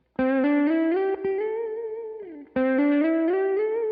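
An electric guitar with effects and distortion plays a pentatonic line on a single string, sliding up and down between notes. The sustained, gliding phrase repeats after a short break, loud and alone.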